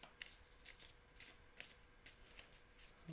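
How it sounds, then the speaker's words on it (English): A deck of Disney Lorcana trading cards is shuffled up close, quick crisp riffling bursts repeating in an irregular rhythm, quiet and alone. "I'm going to draw 3 new ones and then shuffle my deck"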